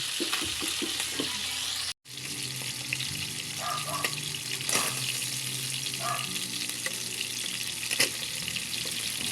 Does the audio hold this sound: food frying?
yes